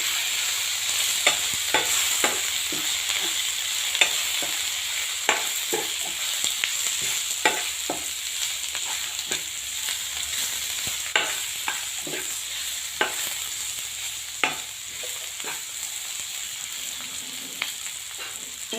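Salt, garam masala, cashews and peanuts are stirred in a pan over low heat, with a faint steady sizzle broken by regular sharp scrapes and clicks of the spoon, close and fairly quiet, with no voices.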